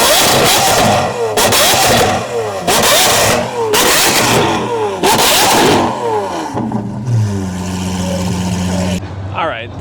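V12 car with a Gintani exhaust at a cars and coffee meet, several sharp loud revs in quick succession, then a steady rising drone as it pulls away, close and dominant.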